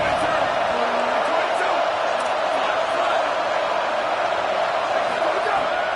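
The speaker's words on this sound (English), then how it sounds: "This dog crowd is off the leash, and they are coming after them, bringing noise on 3rd down." A video-game football stadium crowd roars on third down, a constant dense wash of cheering and noise filling the whole stretch, with a commentator's voice speaking over it.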